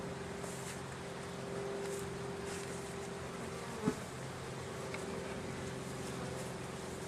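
Honey bees buzz during a late-winter hive inspection, a steady, fairly quiet droning hum with a few brief louder passes of single bees nearby and one short knock partway through.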